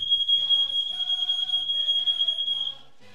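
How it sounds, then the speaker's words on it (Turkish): A smoke alarm in a football career-mode game, triggered by an overheated oven, sounds as a steady, loud, high-pitched continuous beep for nearly three seconds and then cuts off. "Bizim fırın çok sıcak olunca hemen alarm çalıyor burada."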